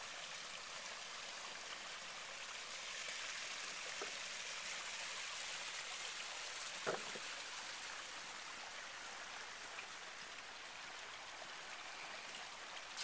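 Water runs steadily over a garden waterfall feature, a soft, even rushing and splashing that continues unbroken, with a single faint knock partway through and no voices.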